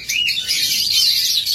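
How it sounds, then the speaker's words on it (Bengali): A pair of green-cheeked conures gives a burst of shrill, continuous chirping, close and fairly loud, with no voices over it. "যারা গ্রিন চিক জোড়া খুঁজতেছেন, তাহলে গ্রিন চিক কোনুর"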